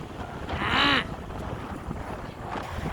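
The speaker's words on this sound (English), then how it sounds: "It's very windy right now" Wind buffets the microphone in a steady low rumble, with a brief whooshing gust early on; no voices.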